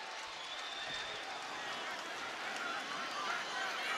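Steady, distant roar of a football stadium crowd cheering after a Hawaii Rainbow Warriors turnover at the 2016 Hawaii Bowl, a continuous wash of noise with no distinct voices.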